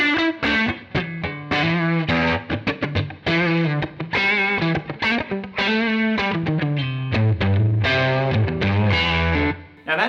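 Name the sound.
Stratocaster electric guitar through Wampler Ethereal plate reverb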